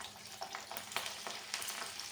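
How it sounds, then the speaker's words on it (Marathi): Busy sizzling and popping of garlic frying in hot oil, close and continuous with small crackling bursts. "त्यामध्ये आता तेल गरम झालं आहे की त्यात लसूण घालायचं आहे"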